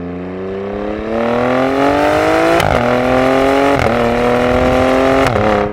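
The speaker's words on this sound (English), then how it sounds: "The Alfa sounds really good in race mode, but it definitely doesn't sound as good as the Jaguar." A 2019 Alfa Romeo Stelvio Quadrifoglio revs hard in race mode, its exhaust rising in pitch through loud, close acceleration, with sharp breaks at each upshift.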